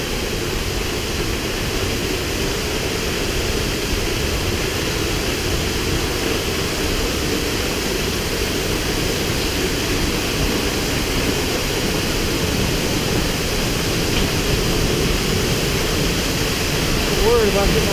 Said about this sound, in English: we come across Fall Creek Falls, and it's absolutely gorgeous right here.